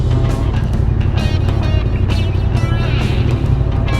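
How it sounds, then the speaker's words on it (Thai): Big bike with a loud aftermarket exhaust rumbling through a tunnel, a dense continuous roar with echoing revs, close and loud, no voices. "เสียงรถกูในอุโมงค์นี่มันเท่จริงเลย"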